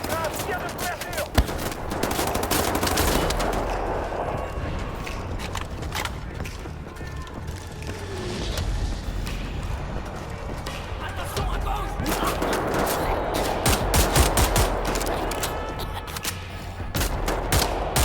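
Sustained covering gunfire rattles in the video game Wolfenstein The New Order, with dense bursts of automatic fire and crackling shots in a battle lasting throughout, while voices call out.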